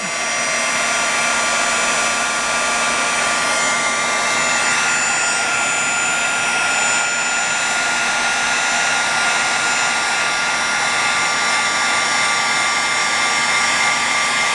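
Heat tool blowing hot air to heat a stamped image in papercraft, a loud, steady whirring hiss of fan and heater running continuously at close range.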